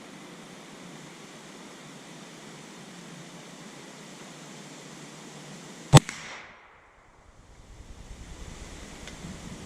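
One sharp rifle shot cracks out at a steel target across an outdoor range, a single loud report over steady wind noise, followed by a brief hush before the breeze builds again.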